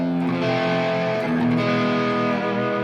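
Electric guitar played through a treble boost drive on a Fractal Audio FM9 with FW 6 beta, driving an amp: a sustained, gritty, harmonically rich chord that rings out loud, then gets re-struck midway with no talking over it.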